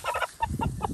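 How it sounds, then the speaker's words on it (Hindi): An Aseel rooster of the Miyan Ali cross breed gives a quick run of short, close clucks, about four bursts in under a second, with little else around it. "ये है भाई माशाल्लाह मुर्गा।"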